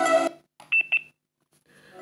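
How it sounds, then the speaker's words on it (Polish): A burst of loud music from a 3W Bluetooth speaker cuts off, followed by two short, sharp electronic beeps signalling maximum volume, then silence before music faintly resumes. "A tu jest takie pikanie, że to jest maksymalna głośność."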